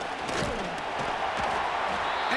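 Stadium crowd noise in an EA Sports high school football video game, a broad, steady roar of fans rising slightly in anticipation, with faint thumps and calls mixed into the wash.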